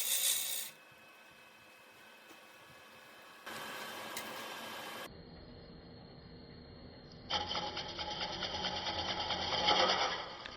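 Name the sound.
turning tool making push cuts on a wooden bowl on a lathe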